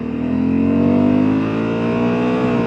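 Honda Africa Twin motorcycle engine pulled hard at full throttle, a loud, steady rising engine note that holds close and continuous, with no talking.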